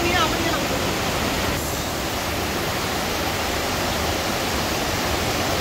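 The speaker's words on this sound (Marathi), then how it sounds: "खूप उंच असा धबधबा आहे." A tall hidden waterfall, Sada Waterfall, in the Chorala Ghat forest between Belgaum and Goa, gives a steady, loud, close roar of falling water that does not let up.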